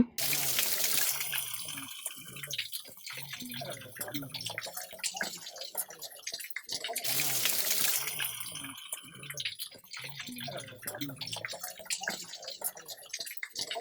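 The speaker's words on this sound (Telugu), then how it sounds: "జ్వాల నరసింహస్వామి వాటర్ ఫాల్స్ దగ్గర ఎంజాయ్ చేస్తున్నాం" The Jwala Narasimha Swamy waterfall at Ahobilam pours with a constant rushing, splashing roar, loud and close, while people talk over the falling water.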